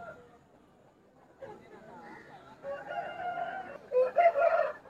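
A native country rooster at a busy Saturday village chicken market gives a harmonic crow that builds toward the end, amid crowd chatter and nearby voices.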